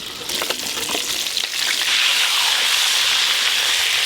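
Chicken kosha sizzles and spits steadily in a hot pan, a loud, close, continuous frying hiss with a few sharper crackles early on, swelling slightly as it goes and with no voices over it.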